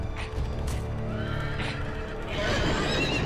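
A horse whinnies loudly over busy game sounds and rumbling, followed by a second shrill neigh near the end.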